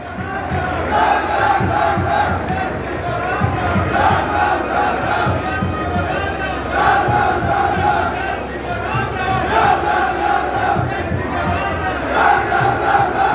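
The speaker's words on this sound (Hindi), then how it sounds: "जोरदार तालियों से स्वागत, जोरदार तालियों से" Large political rally crowd with JP Nadda present, loud sustained cheering and shouting with applause mixed in, a dense roar that swells in waves throughout without a break.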